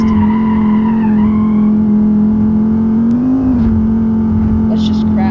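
Five-cylinder engine of a Cherrier Vivace in BeamNG.Drive, a loud steady drone holding near-constant revs with a brief rise and dip, close up, with tire squeal.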